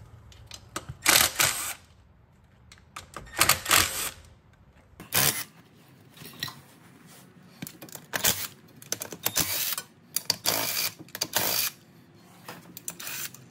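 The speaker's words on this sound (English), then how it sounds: "Now we're going to take out the bolts to the cover." Cover bolts come out of a KYMCO Mongoose 90 ATV: scattered close clicks and metallic clatters of tools and loosened bolts in bursts with quiet gaps between.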